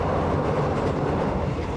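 A local economy-class train runs on rails, producing a loud, continuous rumble and rattle heard steadily throughout.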